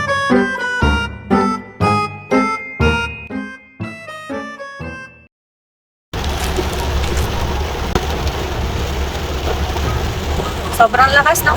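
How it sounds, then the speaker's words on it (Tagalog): Heavy rain pours down in a dense, steady hiss that takes over after a brief silence, following a run of plucked, melodic notes. "Sobrang lakas ng ulan"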